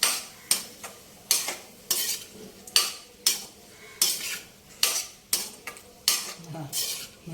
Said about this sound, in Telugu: చింతపండు ఆ వేడి మీద చక్కగా అది కూడా వేగుతుంది